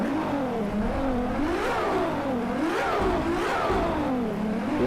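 Ferrari LaFerrari engine in the Driveclub racing game revs up and down repeatedly, its high-pitched hybrid V12 note swooping in steady waves, loud and continuous with no talk.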